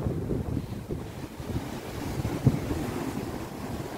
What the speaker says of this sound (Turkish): Biraz daha şöyle dalgaların sesini hep beraber biraz dinleyelim, size de dinleteyim.